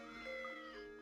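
A cat meows in Professor Layton and the Curious Village, a short tonal cry with a few harmonic swells over a steady game music backdrop, moderately loud and without talk.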